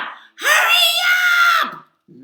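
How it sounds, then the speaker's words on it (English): A voice acting as a frustrated butterfly character lets out a loud, sustained scream lasting about a second, close and alone, with brief speech at either side. "why are you screaming?"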